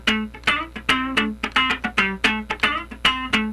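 Funk rhythm guitar playing a straight-feel, one-bar pattern at a fairly quick tempo: a steady run of short, punchy strummed chords with crisp attacks and muted gaps between them, close and clear with no talking.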